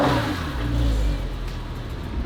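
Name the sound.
Porsche 997 engine with lightened flywheel, clutch pedal pressed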